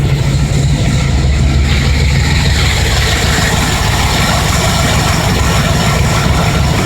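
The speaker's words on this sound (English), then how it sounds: "She's holding an idle." A Ford engine fitted with a rebuilt Autolite 4100 carburetor, its idle mix screw set high, idles steadily with a low, continuous rumble throughout, loud and close, with no talking over it.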